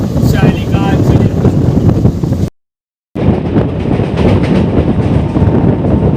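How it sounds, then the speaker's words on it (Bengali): Puri–Howrah Intercity Express train rumbling past at close range, loud and continuous with wind buffeting, broken by a brief gap of silence midway before the roar resumes. "এটা হলো পুরী হাওড়া ইন্টারসিটি এক্সপ্রেস।"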